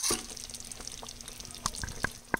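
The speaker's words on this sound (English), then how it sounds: "So I'm going to do about another tablespoon and pour it in there." A small amount of liquid thickener is poured into chicken gravy in a crockpot, giving faint, soft liquid trickles and a few light drips and clinks in a quiet kitchen.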